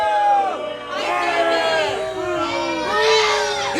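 A wrestling crowd roars and cheers, with high whoops and shrill shouts rising over a dense, continuous wall of voices that surges in waves.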